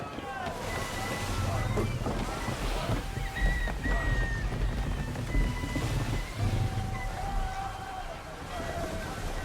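Wind gusting over a sailing ship at sea in Assassin's Creed III, a broad rushing roar with waves and creaking rigging, steady and loud, while voices shout over it.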